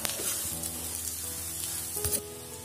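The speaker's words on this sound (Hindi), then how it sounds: "अच्छे से मैश करते हुए मसाले और आलूओं को, और हम 3 से 4 मिनट तक भूनेंगे।" Potatoes and spices fry in a pan while being mashed, a continuous close sizzle with occasional soft stirring knocks and scrapes, and no voices.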